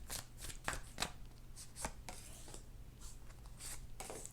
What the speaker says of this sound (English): I'm pulling some cards to see a little bit about our past